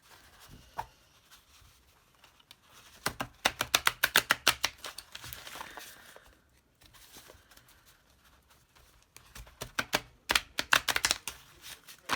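A stiff new Tarot of the Abyss card deck is shuffled in quick riffling bursts, rapid crisp flutters in two main runs separated by quieter handling and soft rustles.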